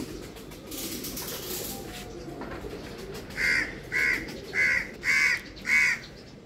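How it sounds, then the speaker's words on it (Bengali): A crow caws five times in a steady, evenly spaced series, loud and fairly near, over faint outdoor background noise on a rooftop garden. "কাকটা ডাকতেছে"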